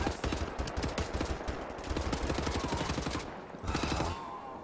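Rapid automatic gunfire from the shooter game Wolfenstein: The New Order rattles in dense continuous bursts with sharp shots, a brief pause, then another volley, loud and close.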